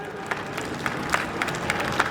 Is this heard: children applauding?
yes